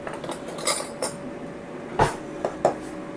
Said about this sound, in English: let me get a spoon and we'll taste this